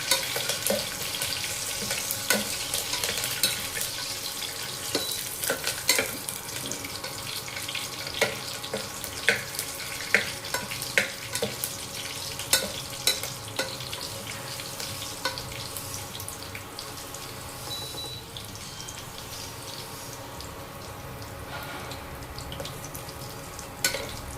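Garlic frying in hot oil until light brown gives a steady, fairly faint sizzle with soft crackles and occasional stirring clicks, no voices.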